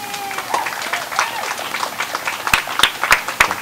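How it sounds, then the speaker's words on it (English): Audience at a Freethought Day event clapping in a brief round of applause, with scattered claps and crowd noise and a few louder, sharper claps near the end. "Round of applause for her and her team."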